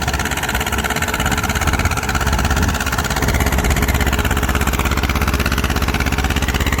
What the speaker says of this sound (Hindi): जो कि दूसरे गियर में ट्रैक्टर चल रहा है।